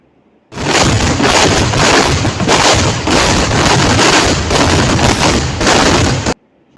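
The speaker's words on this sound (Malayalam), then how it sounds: "ഇങ്ങനെയൊക്കെയായിരുന്നു നമ്മുടെ അമ്പലത്തിലെ വെടിക്കെട്ട് ഉണ്ടായിരുന്നു" Temple festival fireworks at a Kerala pooram burst in a dense, deafening barrage of rapid booming explosions, nearly continuous for about six seconds before cutting off abruptly.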